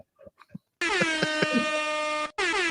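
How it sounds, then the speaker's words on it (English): A loud, blaring air horn sound effect sounds in one long sustained blast, breaks off for an instant, then returns, following a few brief spoken words. "got the air horn on him"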